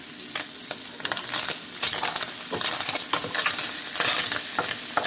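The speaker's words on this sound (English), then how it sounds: "Some green peppers and onion. See them popping, they talking, they singing." Green peppers and onion sizzle and pop loudly in a buttered pot on the stove, a dense, constant crackle with scattered sharper pops and clinks of stirring, close up and without talk.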